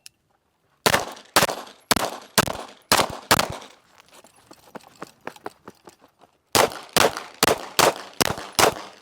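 Sharp gunshots crack during a competition shooting drill, first a quick string of about six, then scattered quieter clatter, then another rapid string of six or so, all close and loud.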